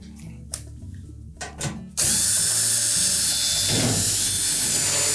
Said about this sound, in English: we're going to remove these 1/4-inch hex head screws that secure that back panel to the cabinet